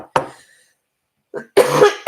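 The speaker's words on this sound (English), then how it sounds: "I'm just going to have to give a little cough here." A single sharp cough, then a pause, followed by a second throaty cough and a short cleared-throat sound, close and loud.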